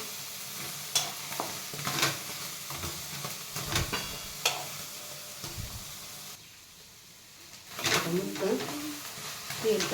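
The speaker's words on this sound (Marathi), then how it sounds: "परतून घेतो कुठाचा बटाटा छान लागतो" Potatoes stir-fried in a little oil in a pan, a sizzle broken by repeated clatters and scrapes of a spatula, easing to a quieter stretch before the stirring picks up again.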